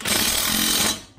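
An 18 mm impact wrench tightens a bolt on the independent rear suspension bracing of a 2018-2019 Mustang GT, one loud close rattling burst just under a second long that cuts off abruptly.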